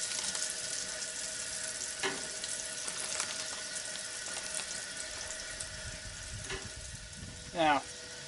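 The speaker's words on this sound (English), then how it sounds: "There we go, it's starting to sizzle now." Meat sizzling in a pan on a Coleman camp stove outdoors, a steady hissing fry running throughout at moderate level, with a few brief clinks and a short louder scrape near the end.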